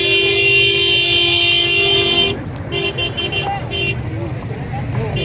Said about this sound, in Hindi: शोर बहुत ज़्यादा है जी गाड़ियों का